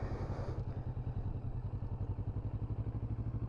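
Big Kawasaki Vulcan motorcycle at low speed during U-turn practice, a close, pulsing V-twin engine putter with an even thumping rhythm throughout, and a brief rustle at the start.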